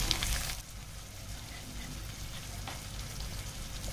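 Onions and tomato fry in a pan for chana dal tadka, giving a soft, steady sizzle with faint stirring scrapes, quiet and close throughout.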